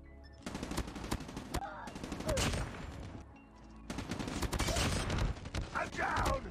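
Rapid automatic gunfire in Call of Duty Mobile from a Damascus HVK build, loud close bursts of shots in several sustained strings with brief gaps, with game sound effects and occasional voice between volleys.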